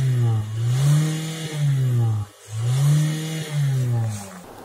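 A car engine revved sharply several times to about 4500 rpm during a quick engine health check, each rev climbing to a steady whine before dropping back, with a brief pause between bursts, close and loud.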